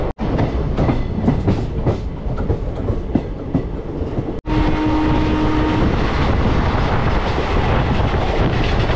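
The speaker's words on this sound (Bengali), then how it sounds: "আমাদের ট্রেন কিন্তু বেরিয়ে যাচ্ছে।" A passenger train on an Indian railway line pulls out of a station, a loud steady rumble of wheels on rails with rhythmic clatter close by, briefly interrupted then continuing with a faint tonal hum.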